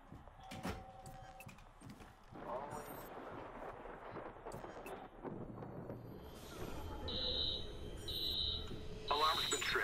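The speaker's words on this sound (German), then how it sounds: "Alarm's been tripped." Security alarm tripped in the video game Watch Dogs: repeated electronic alarm beeps sound in pulses toward the end, amid game effects and background voices.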